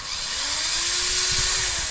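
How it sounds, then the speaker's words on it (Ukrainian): A power drill with a larger bit whirs steadily for two seconds, a high motor whine with a slight rise in pitch as the bit bores into wood, close up and without voices. "Тепер фу, більшим свердлом нацверлюю."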